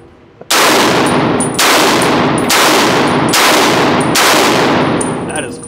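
A semi-automatic .30-06 rifle fires five loud, close shots in an even rhythm about a second apart, each sharp blast ringing out briefly before the next.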